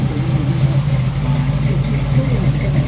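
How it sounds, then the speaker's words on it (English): A Chevrolet Camaro rolls through a veterans' car show in San Antonio, its steady low engine rumble holding close and loud the whole time, with faint crowd chatter underneath. "Oh, we got a Camaro rolling through."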